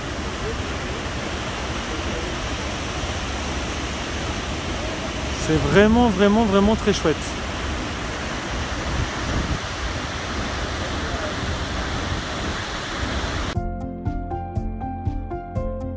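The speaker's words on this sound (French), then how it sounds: "Et voilà les cascades d'Ouzoud." Ouzoud waterfalls in Morocco roar as a steady, dense wash of falling water, close and constant throughout, with a voice speaking briefly over it in the middle and the sound cutting off near the end.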